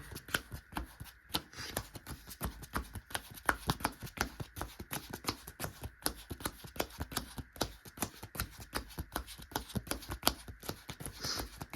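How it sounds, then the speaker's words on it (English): Quick, crisp slapping of playing cards being pile shuffled repeats steadily throughout, a dense pattern of soft snaps close to the listener. "We're gonna do a quick pile shuffle here."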